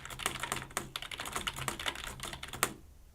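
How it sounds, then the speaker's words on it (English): Quick keystrokes clatter on a Cooler Master CM Storm Octane gaming keyboard in an uneven, rapid rhythm. The typing is close and clear, with no voices, and it stops abruptly just before the end. "I'm going to go ahead and type something out for you"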